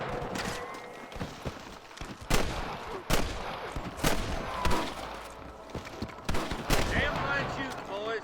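Gunfire from a Red Dead Redemption shootout: repeated sharp rifle and pistol shots at irregular intervals, some close and loud, over ongoing background commotion.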